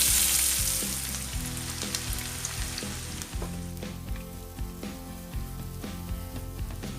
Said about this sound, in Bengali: এইবার এর মধ্যে আমি 2টো বড় পেঁয়াজ কুচনো দিয়ে দিচ্ছি।